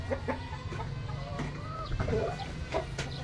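Hens clucking in a backyard chicken coop with nesting boxes, several birds calling in short irregular bursts close by over a steady low background hum.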